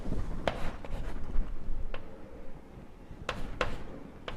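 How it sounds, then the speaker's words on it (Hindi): Marker or chalk scratching across a board during a physics lecture on potential energy, with short strokes and a few sharper taps, quiet and close in a room with faint background hum. "तो मैं शॉर्ट में लिखता हूं"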